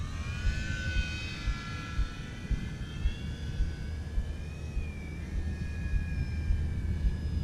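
An RC model BF109E plane flies at about half throttle, its engine holding a steady buzzing drone with a slightly wavering pitch, fairly close and continuous with no talk.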